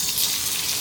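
A small splash of water poured into a hot pan of pan-fried dumplings (mandu, gyoza) after their bottoms crisp, giving a loud, steady hissing gush close by for under a second, with no talk.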